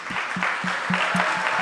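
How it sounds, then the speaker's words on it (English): An audience at an evening celebration of music honoring a woman's life applauds, a dense, steady wash of clapping over a short stretch, with faint low voices underneath. "the biggest round of applause today should go to Sonia Shah"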